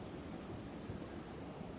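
Strong wind blows outdoors on a gray stormy day, a dense, loud, continuous roar and rumble buffeting the microphone, with no one talking.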